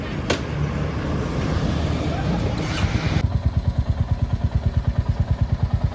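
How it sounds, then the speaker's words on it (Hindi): Royal Enfield Bullet motorcycle riding nearby, its engine settling into a steady thumping single-cylinder beat after a few seconds of mixed clatter and road noise. "राइडर की गाड़ी बुलेट रॉयल एनफील्ड"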